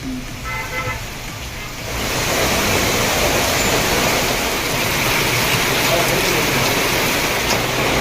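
Moderate rain falls steadily over a town area near Chennai, a dense, loud hiss that swells in after a quieter opening and then stays constant.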